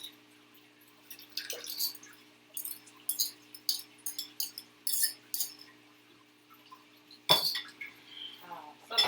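A long knife stirs honey and other ingredients in a glass jar for a honey garlic sablefish dish, making scattered light clinks and scraping taps against the glass, close and fairly quiet, with a sharper clink near the end.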